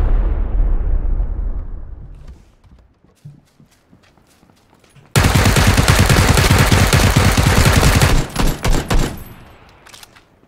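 PUBG gunfire: a fading boom opens, then after a lull a dense, sustained volley of rapid shots roars loudly for about three seconds before breaking into a few separate bursts.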